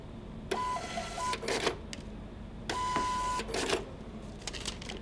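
Star receipt printer printing a receipt and an event ticket, two rapid buzzing print runs with whirring feed and a sharp tear-off click after each, close and moderately quiet.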